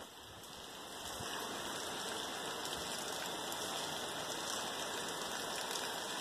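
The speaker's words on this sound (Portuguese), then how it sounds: "Tá tendo sol com chuva." Steady rain falling outdoors during sunshine, a constant dense patter that swells slightly early on and then holds at an even level, with no talk.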